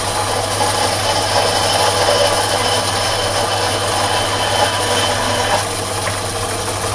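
A FyrdSteel saw cuts through round metal tube, giving a loud, steady mechanical drone with low hum and rattle that holds unbroken to the end, with no talking.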